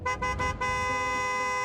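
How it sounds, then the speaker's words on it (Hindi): A car horn honks three short times in quick succession, then blares in one long sustained blast, loud and close. "ये आवाज मेरी गाड़ी के हॉर्न की है।"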